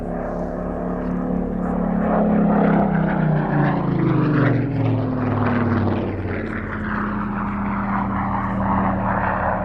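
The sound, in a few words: World War II propeller aircraft flying at an air festival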